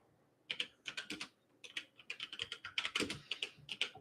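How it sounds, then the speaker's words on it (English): Quick bursts of computer keyboard typing, close and crisp, with a short pause before a faster run of keystrokes; no voices. "Let me type it in."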